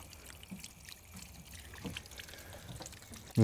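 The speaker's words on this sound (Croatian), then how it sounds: "Evo, voda ide." Rainwater running off a roof and through collection pipes into a storage setup, a soft continuous trickling and dribbling flow, fairly quiet and steady, with a brief louder knock at the very end.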